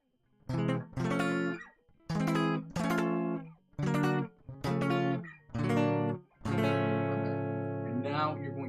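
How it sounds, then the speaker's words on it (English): Rhythm chords on guitar with the pinky added, played as a series of clipped, evenly spaced strums and finished with a long sustained chord; close and clear, with no talk. "Rhythm chords, you're just going to add that pinky,"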